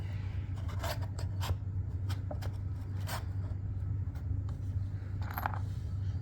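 A bolt is tightened into the bottom hole of an electric lift motor, with close, rapid metallic ratcheting clicks and scrapes over a low steady hum.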